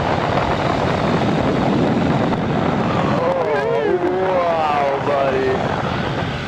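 The engine of a skydive plane in flight drones loudly and steadily throughout, with a wavering, shifting whine midway, while a voice speaks over it.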